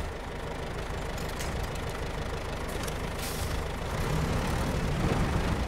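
Tractor engine in a video game starting and settling into a steady idle, a constant low rumbling drone that grows slightly louder near the end, with no talk over it.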